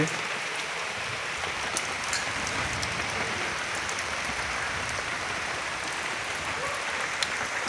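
Heavy rain pours down steadily on a village, a dense, unbroken hiss that stays loud and even throughout, with scattered sharper drops and no voices.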